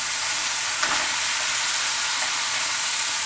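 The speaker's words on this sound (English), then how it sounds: "So while the beef is cooking" Beef frying in a pan as dumpling filling is prepared, a steady close sizzle with faint stirring scrapes and no talk.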